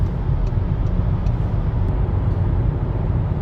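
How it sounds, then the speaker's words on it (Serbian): A car engine rumbles steadily with heavy low road noise while coasting downhill through a tunnel, echoing as if enclosed, with no voices. "Kad pustim gas, auto mi ubrzava na dole."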